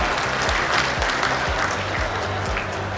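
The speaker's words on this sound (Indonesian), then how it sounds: "Tepuk tangan." An audience at the Barito Kuala regency's 64th anniversary ceremony breaks into applause, a short burst of clapping with a faintly rhythmic, pulsing beat throughout.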